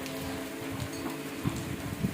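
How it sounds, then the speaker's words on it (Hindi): Heavy rain falling on the bank of the Narmada river, a steady dense hiss with a few louder drips and patters, faint and continuous with no voices. "बारिश बहुत तेज़ है"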